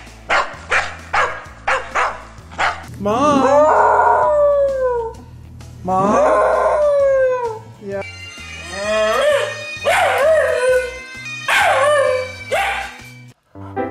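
A Scottish Terrier yaps in quick rapid bursts, then lets out long wavering howls, alternating barks and howls up close; a few spoken words slip in.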